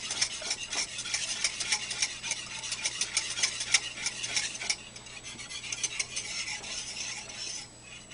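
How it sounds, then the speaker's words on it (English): A whisk beats steadily through a mixture heating on the stove after milk is added, a quick, even series of metallic scraping ticks close up, easing slightly toward the end. "Do not stop stirring it. Use a whisk."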